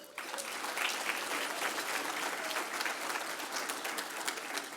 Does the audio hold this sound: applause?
yes